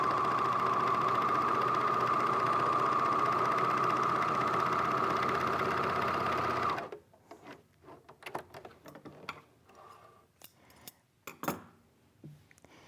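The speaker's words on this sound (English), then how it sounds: "now I'm ready to serge my quilt pieces together" Serger sewing machine stitching quilt pieces together, running as a steady close mechanical whir with a humming tone for about seven seconds, then stopping and leaving scattered clicks and handling noises.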